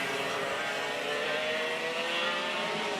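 Race car at Hooton Park in a Daniel Ricciardo Series round, a steady sustained engine drone as it rounds turn 3, moderately loud and continuous with no voices, tyre noise not separately distinct.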